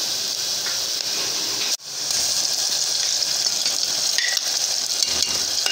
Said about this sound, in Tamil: இஞ்சி பூண்டை பேஸ்ட் போட்டு நல்லா வதக்கிடலாம்